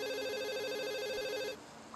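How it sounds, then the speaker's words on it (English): Mobile phone ringing in the visual novel game Katawa Shoujo, a soft warbling electronic ring tone that trills steadily for about a second and a half, then cuts off, with no voices. "A familiar soft ringing begins to sound from Lily's side."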